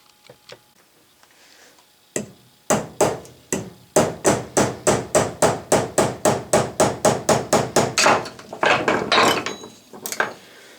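A screwdriver driven as a wedge with steady hammer blows splits a glued wooden piece: about twenty sharp, evenly spaced knocks ring out close and loud, speeding into a quicker flurry near the end.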